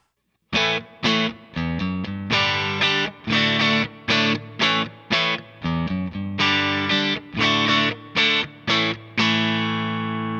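An electric guitar plays heavy, distorted chugging chords in a choppy rhythm with short gaps, run through a Celestion impulse response cabinet emulator, loud and close with no talking.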